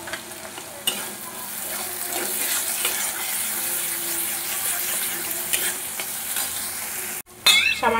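Cumin and coriander powder frying in a pan, with steady sizzling and repeated scraping stirs throughout, close and fairly loud, and a brief gap near the end before the sizzle resumes.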